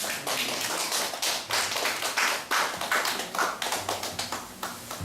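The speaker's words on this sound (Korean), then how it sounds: "박수로 모시겠습니다" A church crowd applauds to welcome a pastor, a dense, steady clapping that stays fairly close throughout with a few louder individual claps on top.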